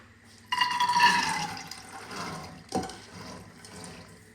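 A small amount of water poured into a pressure cooker holding soaked dried peas, a short splashing pour that fades out, then a brief knock and a second smaller splash, close and alone.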